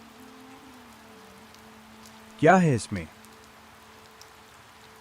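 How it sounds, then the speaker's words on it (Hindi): Steady rain falls through the night as a soft, constant patter in the background, interrupted briefly by a short spoken question. "बारिश की आवाज और तेज सुनाई देने लगी"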